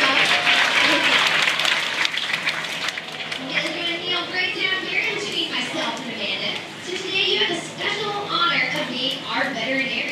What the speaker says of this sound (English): let's give him a nice round of applause for welcome